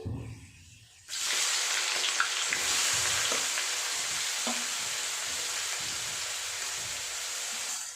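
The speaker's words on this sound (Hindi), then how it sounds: "और उसके बाद ये जो हमारा प्याज है वो डालेंगे" Onion dropped into hot oil with cloves, black pepper and cinnamon bursts into a loud, steady sizzle after a second of quiet, the frying hiss holding strong with a few faint clinks throughout.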